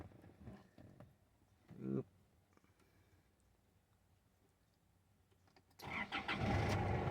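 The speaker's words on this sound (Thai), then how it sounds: "ดูเลขไม้ฟังเสียงเครื่องยนต์กันนะครับ" A few clicks and a brief cranking burst, then after a quiet pause the engine of an Isuzu D-Max Hi-Lander Double Cab 3.0 pickup catches and settles into a loud rumbling idle.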